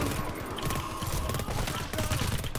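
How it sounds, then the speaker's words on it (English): Automatic sentry turrets in the co-op shooter GTFO fire in a steady, dense rattle throughout, fairly close, mixed with game noise and faint voices. "Our turrets were shooting through the circles."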